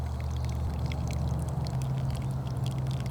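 Water poured steadily for pour-over coffee at a motorcycle camp, a continuous close trickle and splash running the whole time with no talk.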